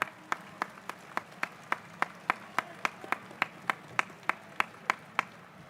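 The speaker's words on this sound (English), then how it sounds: "Let's give a huge round of applause. Let the claps keep coming." Hands clap in a steady, evenly spaced rhythm at an evening gathering with Gurudev Sri Sri Ravi Shankar, sharp distinct claps repeating about four times a second over a quiet hall background, with no talking.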